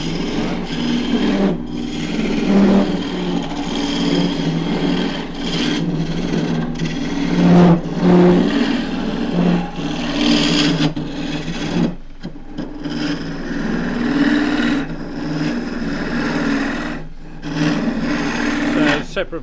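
Wooden goblet on a lathe being back-hollowed with a Thompson turning tool, a steady scraping, rasping cut with rhythmic rubbing variations, close and prominent throughout, with a few brief pauses.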